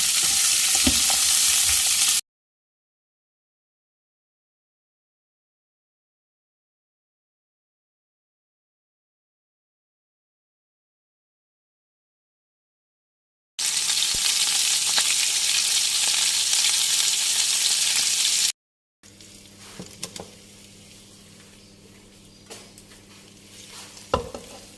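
Pork belly and sugar cane frying in a pan, loud crackling sizzle in bursts separated by a long silent gap, ending with quieter stirring and scattered pops.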